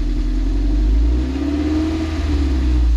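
A car engine revs steadily after an exhaust leak repair, with a continuous loud low rumble lasting throughout and no hiss of escaping gas.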